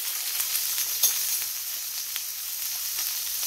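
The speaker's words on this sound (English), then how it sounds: "Put it in the pan, leave it alone, and it will sear." Steak searing in a pan, a steady hiss of sizzling fat with faint crackles and pops running the whole time, fairly quiet and with no voices.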